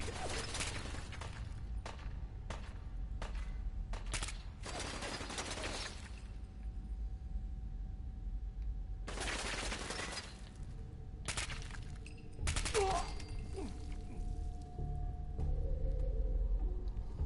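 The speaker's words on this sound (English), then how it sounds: "Never-ending plasma pistol." A plasma pistol fires over and over in a Fallout video game. Sharp, crackling bursts come in irregular clusters, some in quick runs and some spaced apart, over a low rumble. No one speaks.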